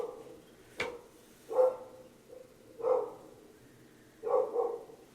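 A neighbor's dog barks in the distance, four separate woofs at irregular intervals against a quiet background, fairly faint and alone.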